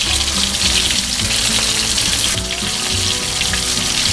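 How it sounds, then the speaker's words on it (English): Steady, dense sizzling of alligator gar frying in hot oil in a pan, loud and continuous with crackling throughout, no voices. "while our second batch of gar is frying"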